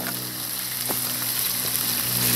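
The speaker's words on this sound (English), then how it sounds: "There comes the sizzling." Vegetables sizzle in a wok on a SilverFire Hunter biomass stove, a constant close frying hiss with a couple of faint clicks and no voices.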